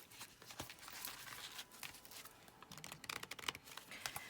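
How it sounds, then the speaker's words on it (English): A tarot card deck is shuffled in quick, soft riffling bursts of crisp card-on-card flicks and papery rustles, faint and close, growing busier and more clustered toward the end. "This is one of those decks that is not easy to shuffle."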